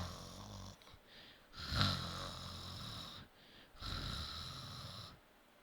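A person imitates snoring with a voice, making two drawn-out breathy snores with a short pause between them, close and fairly loud with no other sounds.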